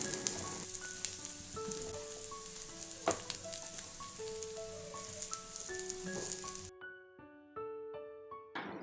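Kerala-style beef fry roasting in a pan with fried coconut pieces and onions, a soft continuous sizzle and crackle beneath gentle melodic music that briefly drops out near the end.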